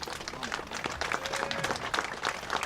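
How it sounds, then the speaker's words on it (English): Crowd applause at a UK protest rally, a steady wash of many hands clapping at moderate volume, with a voice briefly audible underneath. "everyone give yourselves a massive round of applause"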